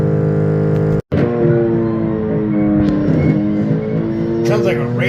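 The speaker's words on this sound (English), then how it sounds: "That motor's making some angry noises." The motor of a broken DC Superheroes laser tag toy hopper makes a loud, strained whine with strong harmonic buzzing throughout, briefly cutting out near the start before resuming at full intensity.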